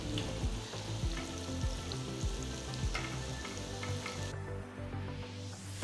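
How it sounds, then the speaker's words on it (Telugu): Coated okra pieces deep-frying in hot oil until golden brown, giving a steady, close, continuous sizzle and crackle with no break. "ఇందులో కోట్ చేసిన బెండకాయ ముక్కలు వేసి గోల్డెన్ బ్రౌన్ రంగులోకి మారేంత వరకు వేయించాలి"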